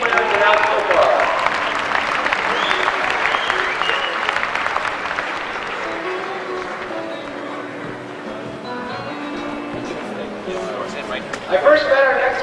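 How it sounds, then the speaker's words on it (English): An audience at a 1993 FFA state leadership conference gives sustained applause for proficiency award winners, a steady wash of clapping that fades slightly before swelling near the end. "Let's have a big round of applause for all of our proficiency winners announced so far."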